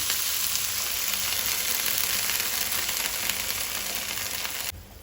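Goan-style valachi bhaji cooks in a pan with a little water, giving a continuous dense hiss of sizzling and bubbling that holds steady and cuts off abruptly at the end, with no talk.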